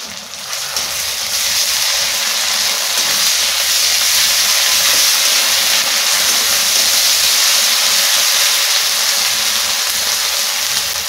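Ginger-garlic paste hitting a pan of fried onions for a soybean and egg curry, giving a steady, loud broadband sizzle and hiss that runs without a break the whole time, with no talking.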